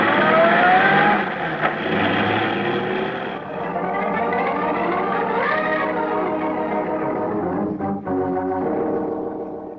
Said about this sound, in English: he was climbing into an old Chevy convertible, and he took off in a cloud of dust